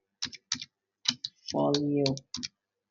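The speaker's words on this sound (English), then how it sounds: "I will type MBA portfolio." Typing on a computer keyboard while naming a folder in a Gmail account: a handful of crisp, separate key clicks in short clusters, with a brief tonal hum in the middle.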